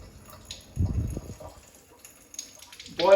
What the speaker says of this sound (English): Now this is one of them 3-in-1 taps.